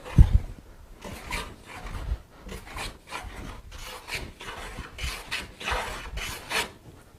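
A bevel-down hand plane shaving wood, a series of rhythmic rasping strokes, each a short swish of blade across the board with brief gaps between, close and clear without any talking.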